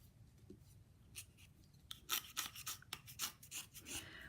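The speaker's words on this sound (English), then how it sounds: "I'm taking off cane pretty aggressively, right?" Cane is aggressively scraped from a thick-gouge oboe reed with short, quiet, close rasping strokes, a few faint ones at first and then a quicker run of scrapes, with no talk.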